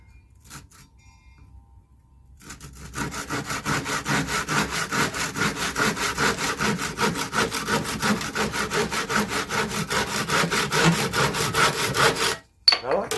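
A hand saw rasps back and forth through wood in quick, steady strokes for about ten seconds, close and continuous, then stops abruptly.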